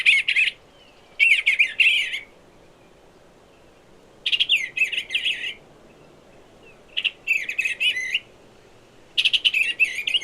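Recorded blue jay calls play in several loud bursts of harsh, squawky chirps, separated by short quiet gaps.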